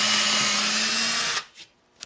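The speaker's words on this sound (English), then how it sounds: "I'm drilling the holes for the motor mount." Power drill boring holes for a motor mount on a DIY disc sander build, a loud steady whine held for over a second, then cutting off and spinning down with a short final blip.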